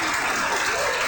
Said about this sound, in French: demande à les applaudir très très fort aux candidats de Miss Fortune